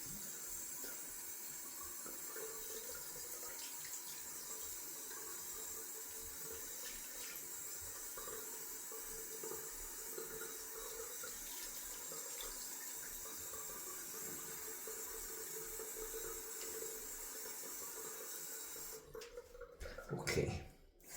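Tap water runs steadily into a sink while shaving lather is rinsed off after a wet shave, a continuous close hiss and splash lasting the whole stretch, with brief clattering handling near the end.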